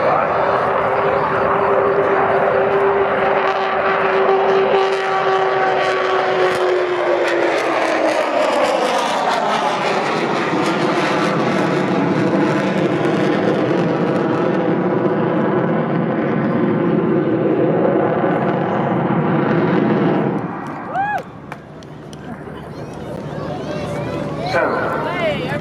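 The Avro Vulcan XH558 delta-wing bomber makes its final display flypast at Southport Airshow. Its loud, sustained jet roar falls slowly in pitch as it passes, then fades away, with crowd noise and voices underneath.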